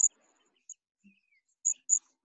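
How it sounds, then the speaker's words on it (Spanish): A few short, high bird chirps come in sparse isolated bursts, faint and alone in a quiet room. "Un pajarito."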